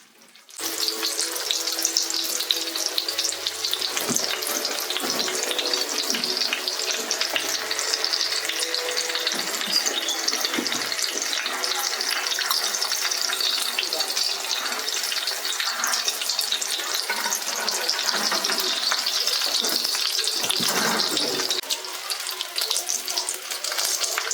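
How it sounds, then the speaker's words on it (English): Crappie fish fillets frying in a pan to golden brown, a loud, dense, continuous close sizzle with bubbling crackle, alone for over twenty seconds and easing slightly near the end. "We're just frying them just enough, about 2 to 3 minutes on each side, just to get that nice golden brown color"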